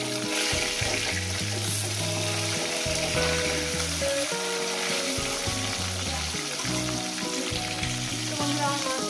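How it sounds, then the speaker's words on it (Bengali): Fish fry in a pan with a continuous loud sizzle, dotted with crackles and the clink of stirring, close and unbroken for several seconds. "আমার মাছগুলো ভাজা হয়ে গেছে"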